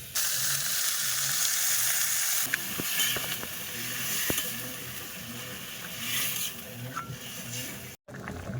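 Potatoes frying in refined oil, well browned and sautéed for an egg curry, sizzle steadily as water is poured in, a dense continuous hiss with a few sharp clinks of utensils and stirring, close and fairly loud, with no talking.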